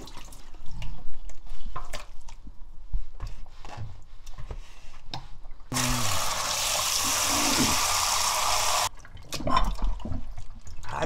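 Fresh oysters rinsed under running water in a kitchen, a steady broadband rush of tap water lasting a few seconds between softer clinks and handling noises.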